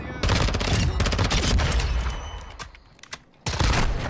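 Rapid bursts of close gunfire in a Modern Warfare 2 match, including shotgun blasts, loud dense volleys that thin out briefly before another heavy burst.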